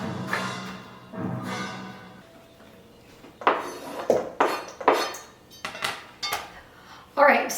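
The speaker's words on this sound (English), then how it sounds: "just take these and chop them up into tiny little squares" Knife chopping red, yellow and green bell peppers into small squares on a board, a series of sharp clacking strokes that starts slowly, then comes in a quicker, uneven run, close and fairly loud with no talk.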